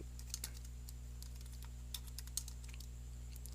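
Quiet, close typing of HTML code on a computer keyboard, scattered light key clicks in short irregular bursts over a low steady electrical hum.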